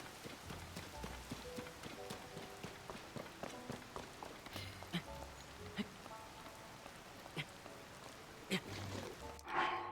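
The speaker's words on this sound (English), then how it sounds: "it needs to stop raining so I can climb this wall" Steady rain falls in Zelda: Tears of the Kingdom, a constant soft patter running through the whole stretch beneath scattered game effects and faint tonal sounds.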